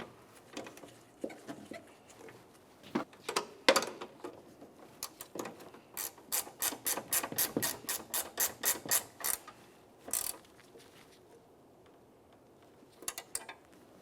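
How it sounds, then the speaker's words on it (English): Ratchet wrench snugging down a hood hinge mounting nut on a 2000-2006 Chevrolet Tahoe, heard as a close, brisk run of sharp clicking strokes in a steady burst, with a few scattered clicks before and after and no talking. "Start on your mounting nut and snug it up."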